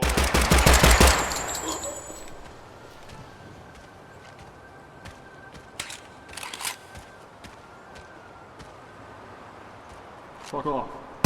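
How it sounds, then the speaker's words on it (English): A slow-firing gun in a weapons test fires a loud, fast burst of shots up close at the start, then sporadic single reports and clicks trail off over a quiet, noisy background, with a voice speaking. "I like weird, slow rate of fire guns like that."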